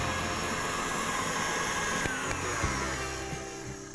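An electric mixer whips eggs for a cake batter with a steady, even whirring drone, holding a constant loud pitch throughout, with a few faint clicks near the end and no voices.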